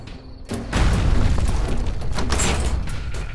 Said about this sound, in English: We press the button, engulfing the theme park in light and causing fireworks to erupt.